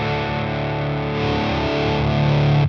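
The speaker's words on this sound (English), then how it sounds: "as soon as you touch the knob, the fuzz just comes roaring back in" A heavily fuzzed electric guitar roars with thick, saturated distortion, sustaining loudly and steadily for a few seconds before cutting off.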